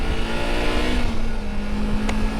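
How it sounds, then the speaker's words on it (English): A Supersport naked motorcycle pulls hard under acceleration on the road, its engine a loud, sustained droning roar with a steady rising tone and wind rush around it. "we have raw power of a Supersport Naked. Actually, this thing goes."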